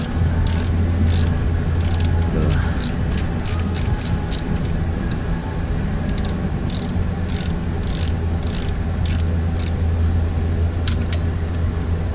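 A ratchet works on the starter bolts of a 2012 Ford F150 with the V6, its quick metallic clicking coming in repeated short bursts over a steady low background hum.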